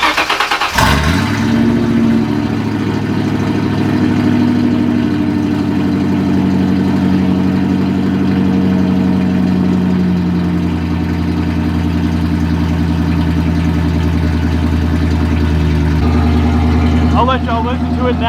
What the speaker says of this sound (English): Let me go ahead and get this key in there and get it started.